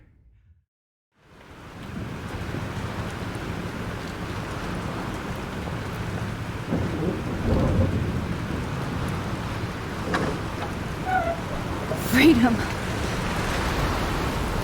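Storm wind and heavy rain roar steadily in the video game Life Is Strange, a dense wash of noise with occasional rumbles and gusts, while a voice speaks over it.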